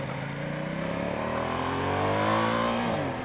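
A Ducati XDiavel motorcycle engine idles and pulls at low RPM, a steady close throbbing rumble that rises slightly in pitch partway through, then eases back near the end.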